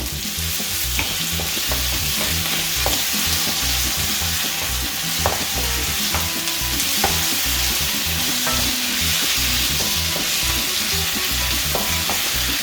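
Beef with black pepper sauce fries in a hot pan, a loud, constant sizzle heard up close with frequent scrapes and knocks from stirring throughout, and no talking.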